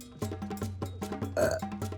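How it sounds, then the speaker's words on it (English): A loud, close burp stands out partway through, among a series of short, clipped vocal bursts in a quick rhythm; no speech is heard. "I gotta burp."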